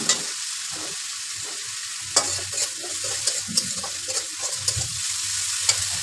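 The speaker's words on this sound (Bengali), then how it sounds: "এইভাবে মশলাটা 2-3 মিনিট কষায় নেব" Spice paste of turmeric and chilli powder with a little water, stirred in a hot pan: a continuous soft sizzle broken by short scraping strokes of the spoon, close by with no talk.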